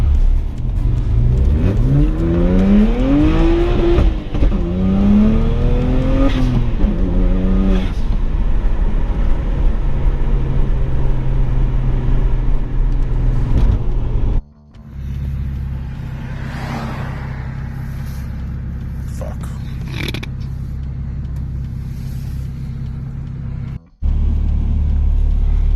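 BMW 135i engine revving hard while driving, loud rising and falling harmonic sweeps across repeated gear pulls, then a sudden cut to a lower steady drone with brief gaps.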